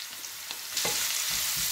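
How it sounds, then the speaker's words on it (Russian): Vegetables and pak choi fry in oil over high heat, a loud, steady hiss with a few brief stirring scrapes, swelling slightly louder partway through. "Обжариваю я их на сильном огне."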